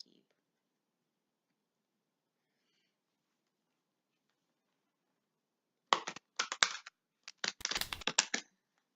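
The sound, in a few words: oracle cards being shuffled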